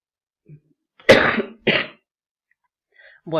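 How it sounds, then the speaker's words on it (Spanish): Two sharp coughs close to the microphone in quick succession, with near silence around them. "justo me agarró tos"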